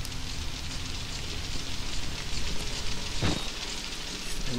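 Constant downpour from the horror game Outlast, a thick, even rain hiss with a dull thud partway through, no voices over it.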